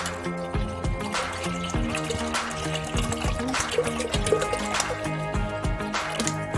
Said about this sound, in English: Coconut milk in, so I'm gonna add water.